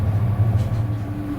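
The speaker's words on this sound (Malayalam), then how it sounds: "ഇപ്പോൾ ട്രെയിൻ ബെർലിൻ സുഡ്ക്രയൂസ് എന്നൊരു സ്റ്റേഷനിലേക്ക് എത്തുന്നു" Train rolling into Berlin Südkreuz station in Germany, heard from inside a carriage as a deep low rumble with a faint steady hum, continuous and fairly loud, with no voices.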